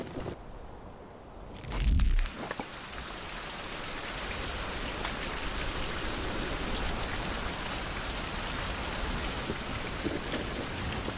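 Steady heavy rain pours down in the survival video game Survival: Fountain of Youth, with a deep thunder rumble early on and a constant dense hiss of rainfall afterward.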